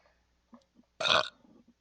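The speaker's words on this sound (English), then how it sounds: "Was that burp to me?" A single short, close burp lasting about a quarter second, loud against near silence, with faint vocal sounds just before and after it.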